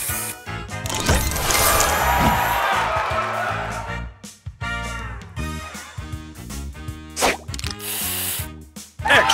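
In the Match Masters game, the spray booster effect fires as a loud, close burst of spraying hiss and bright chiming game effects for several seconds, then gives way to a run of quick plops and popping clicks.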